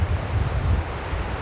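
Strong wind buffets the microphone at the seaside at sunset, a steady low rumble with gusty fluctuations and a faint wash that may be surf, with no talking.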